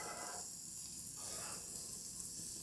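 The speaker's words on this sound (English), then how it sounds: "I love that sound, don't you? I do. The searing here" Celery and green onions are searing in a hot pan with a steady, faint hiss of frying that swells in soft waves.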